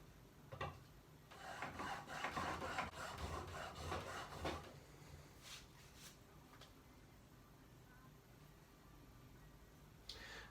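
A chisel rubbed on a diamond sharpening stone gives a faint, close rasping scrape in repeated strokes for several seconds, then tapers off into quiet with a few light taps.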